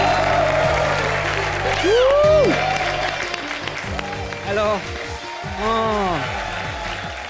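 Studio audience applause for two performers on a televised comedy show, a bed of clapping under loud voices and music, with a greeting spoken near the start.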